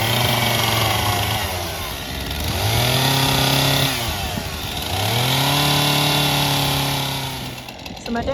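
Chainsaw trimming a tree on a farm, its two-stroke engine idling and then revving up in two long sustained pulls, loud and close, with no speech.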